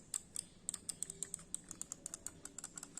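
Clicks of a new computer mouse with a scroll wheel and braided cable: a quick, uneven run of about two dozen sharp, close clicks, heard alone with no talking.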